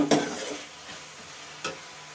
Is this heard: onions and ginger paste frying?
yes